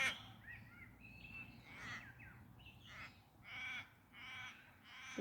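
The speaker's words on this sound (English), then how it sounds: "The butterflies and the crows are flying together." Crows caw outdoors, several rough calls coming in irregular bursts at a moderate distance over faint background hiss.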